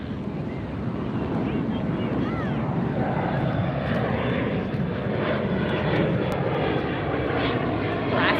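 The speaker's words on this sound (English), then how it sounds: "Alaska Airlines heading out." An Alaska Airlines jet takes off at LAX, its engines giving a loud, steady roar that carries through the whole stretch, with wind buffeting the microphone and faint voices under it at a beach by the airport at sunset.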